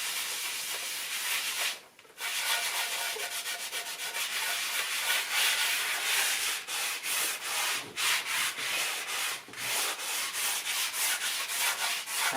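A grimy kitchen wall being scrubbed with Bartoline ready-to-use sugar soap and the soft non-scourer side of a sponge, giving a steady close rubbing hiss in rhythmic strokes with a few brief pauses.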